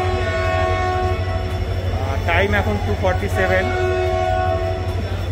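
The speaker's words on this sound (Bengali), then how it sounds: "ট্রেন এনজেপি স্টেশনে পৌঁছে গেছে" Saraighat Express arriving at NJP station, a steady low rumble of the moving train with a brief horn blast midway, and a voice speaking over it.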